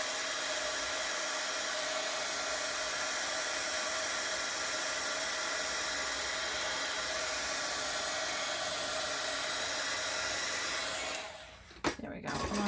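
A heat tool blows a continuous, loud, steady whoosh while drying spray ink on a planner journal page, holding constant for most of the time before cutting off with a few brief clicks near the end.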